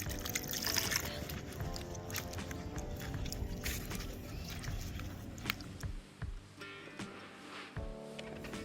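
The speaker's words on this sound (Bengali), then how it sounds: "এবারে জলে ভালোভাবে ধুয়ে নেব।" Peeled new potatoes are washed in water with close sloshing, splashing and hands rubbing them, then a few knocks and drips as the sound thins out near the end.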